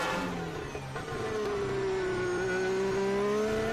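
Formula 1 race cars at the 2025 Spanish Grand Prix: a loud, continuous high-revving engine whine that sweeps slowly in pitch as the cars pass, with a steady track roar underneath.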